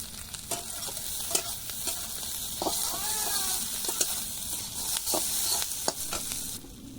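Onion, dried chillies and black cumin fry in hot oil in a village kitchen, giving a steady close sizzle with repeated stirring clicks and scrapes throughout; no one speaks.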